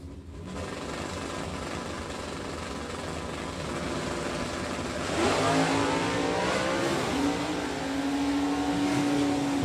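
Super Stock drag racing cars, a 2013 factory Super Stock Mustang and a factory GTE Achieva, roar loudly throughout. A sharp engine rev climbs in pitch partway through and holds over steady track noise.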